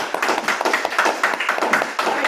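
An audience applauds the chairperson at a talk on excellence, a steady patter of many hands clapping close by, continuous for a couple of seconds with no speech over it.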